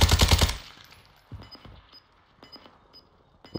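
Automatic gunfire aimed at an enemy during a battle royale video game: a loud rapid burst at the start that fades quickly, followed by scattered fainter shots and sharp game effects, with no talking.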